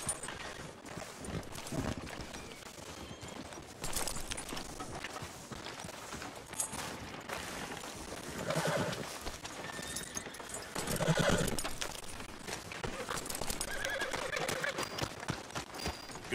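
Horse hooves clip-clop on a town street in the Western game Red Dead Redemption 2, a steady walking rhythm with occasional snorts and a whinny under a dense ambient game backdrop.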